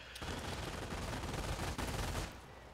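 Light machine gun fire from a Company of Heroes multiplayer battle, a loud continuous burst of rapid automatic shots with battle noise that eases off near the end, no talk over it.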